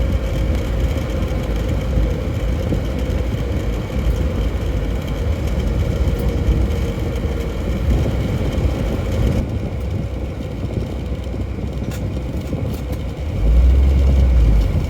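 The engine of a 1972 Toyota Land Cruiser FJ55 drones steadily as the truck drives through snow, a loud continuous low rumble with road and cabin noise and a deeper surge near the end.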